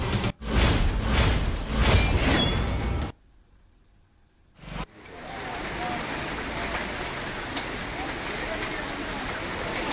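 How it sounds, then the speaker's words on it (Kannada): A voice speaks briefly before a short lull, then a heavy, steady hiss of pouring rain takes over, in flooded Ramanagara, Karnataka. "ಈಗ ಸಾಕಷ್ಟು ಮಳೆ ಸುರಿತಾ ಇದೆ"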